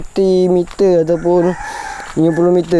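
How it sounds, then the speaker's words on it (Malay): Chickens cluck and roosters crow outdoors in repeated bursts, loud and fairly close, while a voice talks in the pauses between calls. "Jadi macam mana dengar punya ayam semua."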